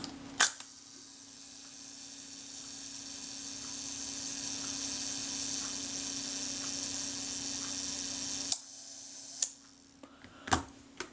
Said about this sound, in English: Try the self timer, set that to a nice slow speed.